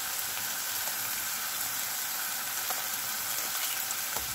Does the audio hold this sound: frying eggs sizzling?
yes